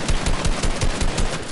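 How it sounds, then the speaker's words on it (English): Video game machine gun fire: a rapid, dense burst of evenly spaced shots rattling continuously for a second and a half, loud and close with no talk over it. "Oh my god, they're shooting my..."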